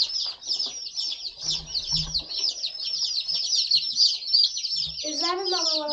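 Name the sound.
baby chicks from Cackle Hatchery peeping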